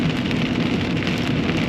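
Heavy rain pours down steadily with a dense, constant hiss and patter, close and loud, with nothing else heard over it.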